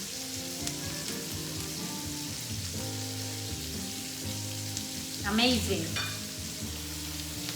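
Ribeye steak frying in butter with thyme in a pan gives a steady, close sizzle throughout, with a brief louder burst of spattering near the end and a short spoken remark.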